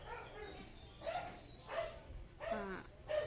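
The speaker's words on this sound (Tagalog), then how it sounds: "Ang daming aso doon sa kapitbahay namin, may K9 sila" Several dogs at a neighbour's house, including a K9, bark from a distance, about four muffled barks spaced roughly a second apart over household background noise, faint and far off.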